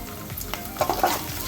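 Pounded green chillies hit hot tempering oil for a fenugreek-leaf dal, a short burst of crackling sizzle and stirring close by, with no voices.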